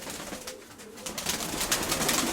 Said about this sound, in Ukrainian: У мене є декілька роликів, де вони в польоті, оці білокрилі голуби.